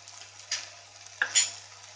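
Ground turmeric, chili, coriander and garam masala sautéed in a pan for Goan crab sukka: a faint, soft frying hiss with a couple of gentle scraping stirs, one near the middle and one toward the end.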